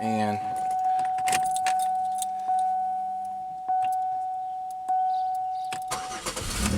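A car with a rain-soaked, leaking interior and an alternator warning light: keys jangle close by over a steady warning chime, then the engine cranks and catches near the end. A single word is spoken.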